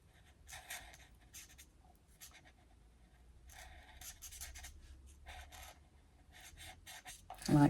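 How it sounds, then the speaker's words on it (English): Blending markers in hydrangea hue and crumb cake colouring in flowers on an envelope, giving quiet rapid scratchy strokes in bursts with short pauses, close up and alone. "I'm going to use hydrangea hue and crumb cake to colour these flowers in"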